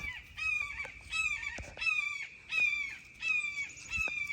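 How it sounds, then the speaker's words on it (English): Geese honking loudly in repeated bursts, a rhythmic series of harsh calls roughly every second, fairly close with no talking. "These birds sure are making some racket this morning."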